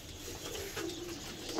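A pigeon from a loft of fancy pigeons coos in soft, low murmuring phrases, fairly near and moderately quiet against a light background hiss, with a slightly louder note near the end.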